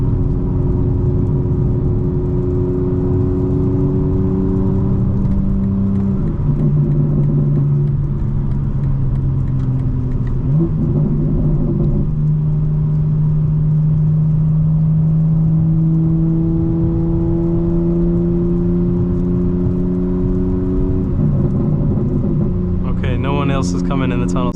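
A 2025 BMW M4 Competition xDrive cruises on a night city drive, its engine a steady low drone from inside the cabin, with pitch stepping between gears and a brief rise near the end.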